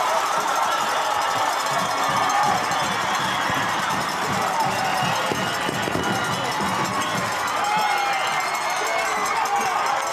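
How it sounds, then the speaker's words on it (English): Football crowd cheering after a touchdown at a Red Mountain versus Mountain View high school game, a dense sustained roar of voices with cowbells, a commentator talking over it. "this crowd is fired up"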